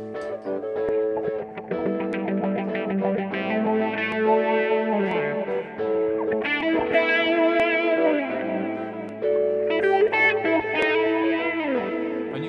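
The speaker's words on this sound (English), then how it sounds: "And you can hear I'm playing spacey ideas. Let the delay take." Spacey electric guitar lines run through a delay effect, sustained notes and chords ringing out with repeating echoes and distortion over a steady, continuous wash, with no talking.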